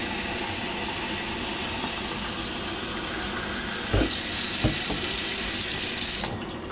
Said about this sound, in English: I've been running the water in my bathroom, and I'm filling up a small cup.